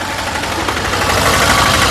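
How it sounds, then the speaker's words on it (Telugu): A 2022/23 Mahindra Thar LX AMT idles with a smooth, steady, fairly loud engine rumble and light mechanical clatter, continuous and unchanging, with no talk. "ఇంజన్ యొక్క నాయిస్ చాలా సైలెంట్గా అయితే ఉంది"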